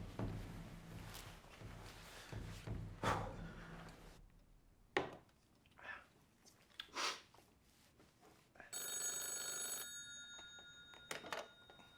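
A telephone rings on an outgoing call, heard as repeated ring bursts at moderate distance, mixed with handling noises and footsteps in a quiet room, with no talk over it.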